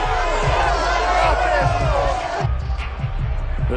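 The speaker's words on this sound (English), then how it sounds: "that might be exactly what they needed to wake up this home crowd" Home crowd at a football game cheering, a dense, loud roar of many voices that holds steady, dips briefly, then swells again.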